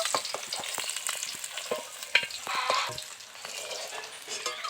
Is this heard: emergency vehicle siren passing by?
no